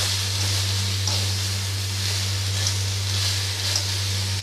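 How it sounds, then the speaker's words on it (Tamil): Crab sautéed with salt in a pan makes a soft, continuous sizzle at moderate distance over a constant low hum; no talking. "நல்லா வதக்கிடலாம்."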